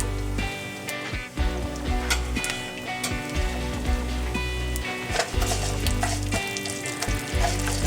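Whole fennel, mustard, cumin, fenugreek and black seeds sizzle and crackle in hot oil, a dense steady frying sound with sharp pops and spits scattered throughout, close and fairly loud.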